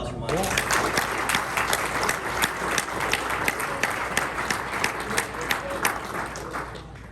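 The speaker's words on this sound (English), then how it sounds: "One more round of applause for Monica." A room of people at a club meeting gives a round of applause for Monica, steady clapping lasting several seconds, with some voices mixed in.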